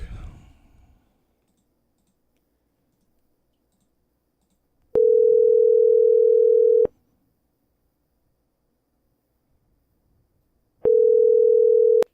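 A telephone tone sounds during a phone call, heard as two long, steady electronic beeps, each about two seconds, separated by silence after a brief rustle at the start.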